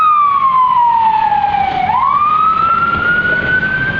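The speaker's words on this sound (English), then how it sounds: "And then there goes the ambulance," A fire truck siren wails loudly as it passes along a Baltimore street during the 2010 snowstorm, its tone falling sharply as it goes by and then steadying.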